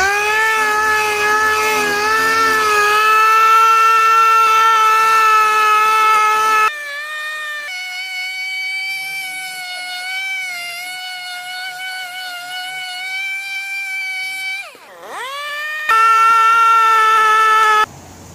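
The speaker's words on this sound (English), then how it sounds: "Now I'm going to switch over to the dual action sander. Okay, I've got my D8 and I've got some 80 grit on there." A D8 dual action sander fitted with 80 grit sandpaper, running as a loud, steady whine that drops to a lower hum midway, briefly spins down, then revs up again near the end.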